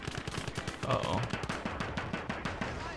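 Rapid machine gun fire in the WWII strategy game Gates of Hell: dense, fast bursts of shots that repeat steadily throughout, close and loud within a busy game soundscape.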